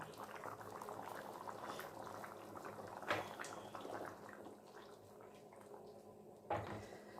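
Nellore-style fish curry bubbles in a clay pot, a quiet, steady simmering burble with a couple of brief knocks from the pot, faint and close with no speech.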